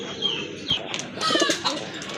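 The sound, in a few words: pair of Lalpatti pigeons cooing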